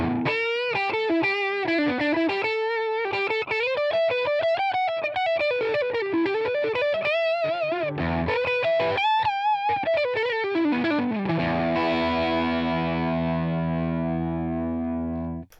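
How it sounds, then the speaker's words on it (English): A Fender Vintera Telecaster electric guitar with both pickups selected plays a fast, distorted lead line with bends and runs, then ends on a loud sustained chord that rings out, with no talking. "now I'm going to use both pickups together."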